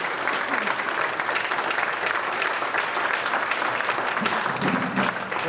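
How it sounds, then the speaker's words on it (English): An audience claps in a sustained round of applause for a speaker being introduced, dense and steady throughout with some crowd murmur mixed in. "Let's give Bill a loud round of applause."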